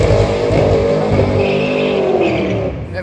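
A car at a lively street car meet does a power skid, its engine roaring loud and close as the tires squeal in a sustained screech that holds for a few seconds.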